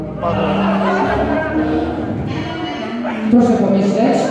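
A person imitates a ram's bleat with a wavering, drawn-out vocal baa at a wedding, close and fairly loud, with some background voices.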